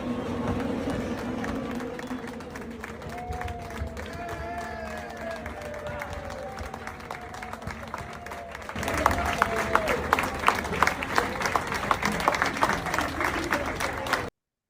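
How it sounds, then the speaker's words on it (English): Long, steady crowd applause with cheering for a flag being waved at a televised political event, a dense wash of clapping that swells louder about two-thirds of the way through and holds until an abrupt cut. "He got a really long applause for waving that flag."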